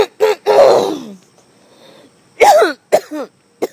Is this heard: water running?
no